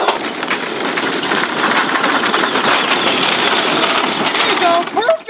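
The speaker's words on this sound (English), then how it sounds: "Hudson, I'm gonna use this road tractor to get some square bales and load you up, okay?" A farm tractor engine idling near a hay trailer, a steady, loud, close rumble with a rough mechanical knock that holds throughout, with a few faint squeaks near the end.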